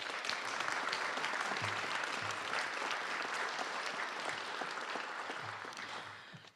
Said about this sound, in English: I just want to have a big round of applause for all the work that they're doing